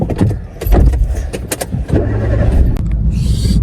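A car sits with its engine running before setting off on a shopping trip, with clicks, thuds and jangling at close range and a low hum underneath.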